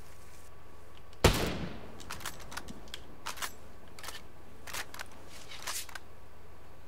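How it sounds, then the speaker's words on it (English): Gunshots in the video game Ghost Recon Breakpoint during PvP play: one sharp close crack followed by scattered fainter shots in an irregular rhythm, fairly quiet overall. "Yeah, somebody's shooting at me."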